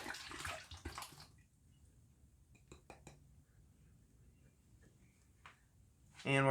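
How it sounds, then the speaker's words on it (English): A beer bottle is rinsed with water during homebrew bottling, giving a short splash near the start, a few faint clinks partway through and a louder gush of running water at the end. "we're going to take a bottle, give it a good little rinse."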